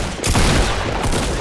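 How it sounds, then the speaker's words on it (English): Shotgun blasts from close-range fighting in Fortnite ring out loud and dense, a harsh burst crackling over about a second and a half with no talk. "He's coming in with a shotty."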